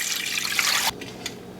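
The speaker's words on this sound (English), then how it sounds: "I'm going to cover it with water." Water pours from a tap or jug over ham and peppercorns in a pot, a steady close splashing rush for most of the moment before it cuts off, leaving only faint drips.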